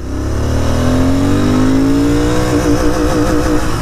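A Royal Enfield Interceptor 650 BS6 motorcycle revs hard through first gear toward its top end, the engine pitch rising steadily and loud, then settling into a sustained high drone with a wavering note near the end.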